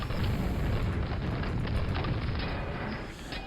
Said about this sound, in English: also use a grenade launcher on this guy